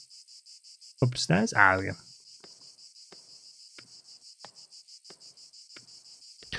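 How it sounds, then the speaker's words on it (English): Crickets chirp in the Next Door video game, a thin high trill in a steady repeating pulse that runs through the whole stretch, with a brief burst of talk near the start. "I never heard crickets like this until I visited America"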